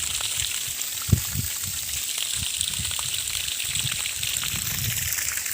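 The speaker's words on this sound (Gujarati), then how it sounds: "નળ થોડોક આપણે ધીરો કરી નાખીએ" Water runs from a tap in a steady, close hiss, with a few soft low splashes and thumps breaking through the constant flow.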